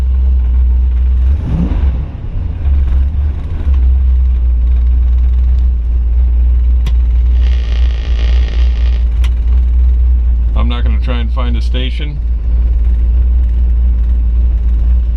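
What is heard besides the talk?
1969 Ford Mustang 428 Super Cobra Jet engine running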